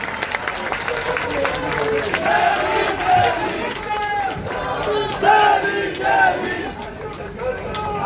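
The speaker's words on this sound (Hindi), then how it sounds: "सभी साथी खड़े होकर के उनका तालियों स्वागत करेंगे" A large crowd at a BSP party workers' conference in Delhi, gathered for Akash Anand's speech, cheers and shouts with scattered clapping mixed in. The sound is dense and sustained, with voices raised together over the whole stretch.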